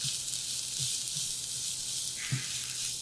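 Vegetables sautéing in olive oil with grated garlic, a constant bright hiss of frying with a few soft low knocks of stirring, close and without talk.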